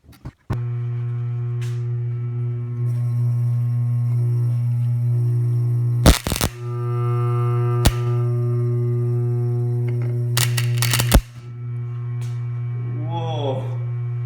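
Homemade spot welder built from a transformer runs with a loud, steady electrical hum, broken by a few sharp crackling bursts as it melts a small piece of metal. Close by, with a brief voice near the end.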